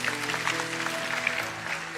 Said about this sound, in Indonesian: kasih tepuk tangan untuk Seva